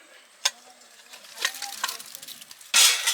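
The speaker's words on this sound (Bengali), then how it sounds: "এবারে তেল দিয়ে প্রথমে আলুটা ভাজবো" Potatoes frying in oil in a pan on an outdoor leaf-fired stove, with scattered sizzles and stirring scrapes, a few clinks, and a loud burst of sizzling near the end.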